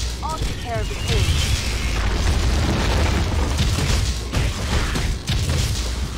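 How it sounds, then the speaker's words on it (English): Heavy booming explosions in the Spider-Man 2 video game roll through a dense, continuous din, with a few sharper blasts and brief game voices mixed in. "So many explosions."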